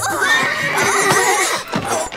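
An agitated horse in an animated Playmobil princess adventure whinnies loudly for about two seconds, a shrill, wavering neigh with no talk over it.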